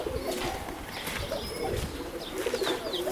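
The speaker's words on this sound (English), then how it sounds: "And these are my Budapest high flyers I got." Budapest high flyer pigeons coo softly in a loft, giving several low, throaty calls with faint chirps and rustling in the background, quiet and close.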